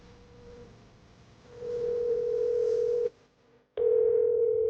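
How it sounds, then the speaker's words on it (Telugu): A telephone ringback tone on a call that goes unanswered: a steady, moderately loud tone that rises, cuts out briefly into near silence, then resumes. No one speaks. "రింగ్ అవుతూనే ఉంది, ఆన్సర్ చేయట్లేదు."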